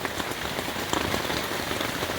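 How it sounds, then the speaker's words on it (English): Heavy monsoon rain drumming on a leaking camping tent in the middle of the night, a dense, loud, continuous patter with no voices. "it is still raining like crazy"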